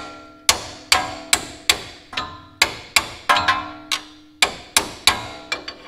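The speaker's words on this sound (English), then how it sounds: "I'm just gonna have to tap it." A hammer taps a bolt through the suspension of a third-generation Toyota 4Runner, a close, loud series of about a dozen sharp metallic strikes at an uneven, steady pace.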